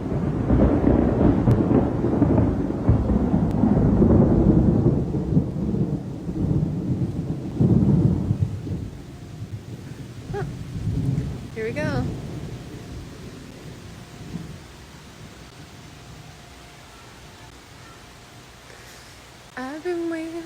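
Thunder rumbles deep and loud through a rainstorm in Nosara, rolling heavily at first and then fading into steady rain hiss, while a voice speaks briefly over it.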